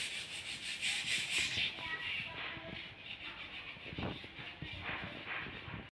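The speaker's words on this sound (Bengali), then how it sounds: "ঠিক আছে, আলনা সব পালিশ করা হচ্ছে।" Cloth rubs back and forth against a clothes rack in a home as it is polished, producing scratchy, rhythmic swishing strokes close by, with faint voices and household noises behind.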